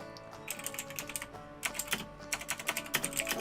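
Rapid clatter of computer keyboard typing in uneven bursts, a pause, then a louder stretch of quick keystrokes over a steady background hum.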